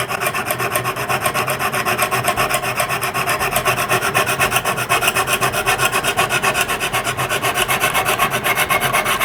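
Steady rhythmic rasping of a knife edge drawn back and forth across a Lansky sharpening system stone, close and even, continuous strokes with no voices.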